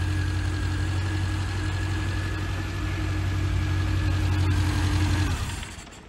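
A Scamp Mk3 car engine idles steadily with a low, even rumble and slight vibration, close by, then shuts off near the end.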